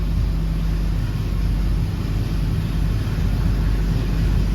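An engine held at steady idle on a dynamometer rumbles continuously and loudly from close by, with a constant low drone and no change in pitch throughout.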